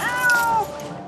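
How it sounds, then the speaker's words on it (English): A ginger cat in London lets out a single drawn-out meow that falls in pitch, close and fairly loud, over a low background murmur. "The cat's name is Bob."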